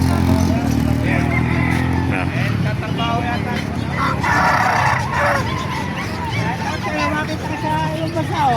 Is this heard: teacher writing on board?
no